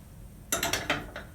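A heat press platen on a cap and 3D sublimation press is unscrewed and slid out, giving a quick run of three or four close metallic clicks and scrapes after a quiet start.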